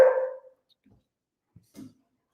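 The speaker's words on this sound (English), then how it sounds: "my dog's going off in the background" A dog barks in the background: one loud bark at the start, then a couple of faint, distant yips later in an otherwise quiet moment.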